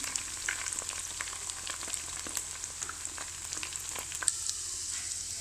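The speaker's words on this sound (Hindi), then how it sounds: "जिंजर गार्लिक पेस्ट हमने इसके अंदर डाल दिया है ऑयल के अंदर" Ginger garlic paste frying in oil after eggs were fried, a quiet continuous crackling sizzle with faint stirring taps, heard alone.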